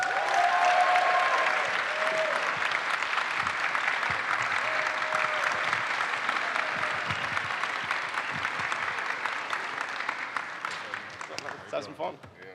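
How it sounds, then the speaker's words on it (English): A warm round of audience applause welcoming former NBA champion Shannon Brown at an interview event, a steady dense clapping that continues for about twelve seconds before tapering off. "Please give a warm round of applause for Shannon Brown."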